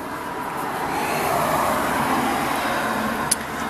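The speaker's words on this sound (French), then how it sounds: "Voiture" A car passing by on a road outdoors, a steady loud rumble of road noise that swells through the middle and eases off, with no talking.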